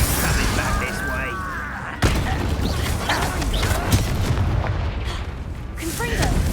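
A Confringo explosion spell in a Harry Potter video game goes off as a heavy, rumbling blast, with a sharp boom partway through, amid continuous game noise and talking voices.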